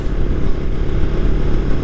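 A superbike exhaust, a BMW S1000RR or a Suzuki Hayabusa, gives a loud, deep, continuous rumble up close for a couple of seconds.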